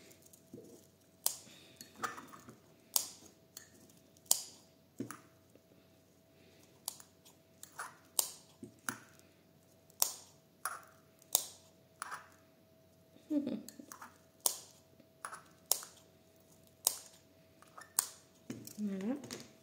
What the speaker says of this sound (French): on va lui mettre des petits coups de ciseaux